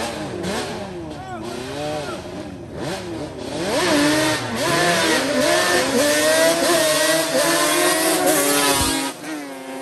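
Yamaha Banshee quads with 421 and 392 engines revving at a drag race with hot, slipping clutches, loud rising and falling two-stroke wails that overlap and climb, close by, with voices talking over them.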